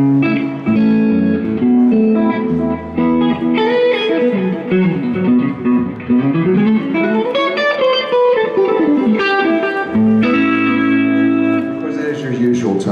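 A clean Fender Eric Johnson Stratocaster electric guitar plays melodic lines with chords and slides, bright and sustained, with light effects like echo and chorus.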